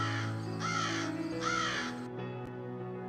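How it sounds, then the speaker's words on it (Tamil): Two loud crow caws in a cartoon, each a harsh rasping call, come through over steady background music with a short gap between them. "இதோ பாரு, காக்கா வந்துருச்சு"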